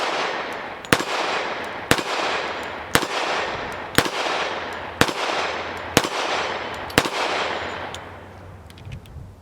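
A Colt 1911 pistol firing .45 ACP 230-grain ball rounds produces eight sharp, loud shots spaced about a second apart, each with a long ringing outdoor decay.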